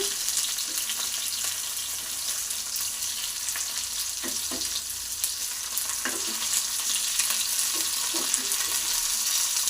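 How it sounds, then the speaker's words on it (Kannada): Tomatoes and garlic fry in oil for a brinjal relish, producing a continuous soft sizzle with scattered faint pops and stirring clicks, no voices. "ನೋಡಿ, ಎರಡೂ ಸೈಡಲ್ಲಿ ಫ್ರೈನ ಮಾಡ್ಕೊತಾ ಇದ್ದೀನಿ ಟೊಮೊಟೊನ, ಮತ್ತು ಅದ್ರ ಜೊತೆ ಬೆಳ್ಳುಳ್ಳಿನೂ ಹಾಕಿದ್ದೀನಿ"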